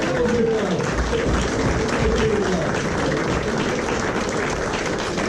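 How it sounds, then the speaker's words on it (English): A crowd at a snooker club in Lowestoft applauds volunteers after a trick-shot display, with sustained, dense clapping throughout. A voice speaks over it early on. "give all the volunteers a round of applause."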